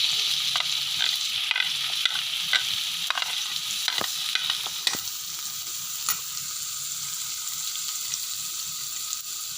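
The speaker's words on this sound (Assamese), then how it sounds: "এতিয়া পিঁয়াজবোৰ ৰঙচুৱাকৈ ভাজি ল'ম ভালদৰে" Onions sizzle steadily in a hot pan with capsicum and peanuts, with repeated scraping and clinking as they are stirred.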